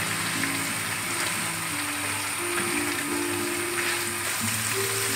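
Egg and rice frying in a hot pan for plain Chinese fried rice, heard as a steady, fairly quiet sizzle like light rain, with soft scraping from stirring and no talk.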